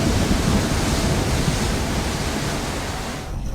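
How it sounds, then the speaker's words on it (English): Strong 45-knot wind roars continuously across a sailboat at sea, a dense, loud, steady rushing wash that drops away briefly at the very end. "Just hit 45 knots of wind."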